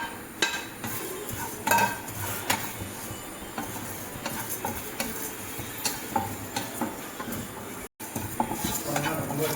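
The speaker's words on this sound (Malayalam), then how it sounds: "ഒന്ന് നന്നായി വറുത്തെടുക്കണം." Fennel, cumin, coriander seeds and peppercorns dry roasting in a pan, with steady scraping and stirring clatter and small metallic knocks repeating throughout, close and moderately loud, with no voices.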